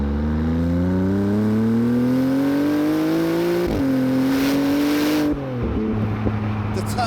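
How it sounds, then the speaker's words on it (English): A Maserati MC20's turbocharged engine revs loudly and close, its pitch climbing steadily through a gear, dipping at a shift and then pulling again, with the turbo whooshing over the engine note. "I could probably live with that sound if I can make it a bit louder and get more of that turbo sound"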